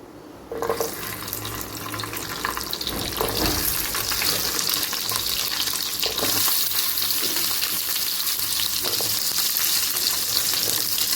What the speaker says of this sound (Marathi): त्याच्यानंतर मी त्याच्यावरती कांदे परतणार आहे।